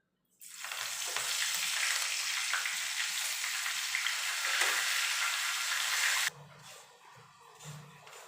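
Curry leaves hit hot oil in a pan and burst into a loud, dense sizzle that holds steady for several seconds, then drops abruptly to a softer crackle with faint handling sounds.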